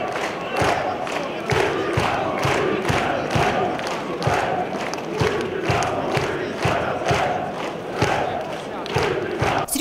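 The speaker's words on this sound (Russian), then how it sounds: "Мощная поддержка с трибун красноречиво свидетельствовала о вере в команду." Football fans in the stands at a match in Brest chant in rhythm, loud crowd voices and regular, pulsing clapping that repeat steadily throughout.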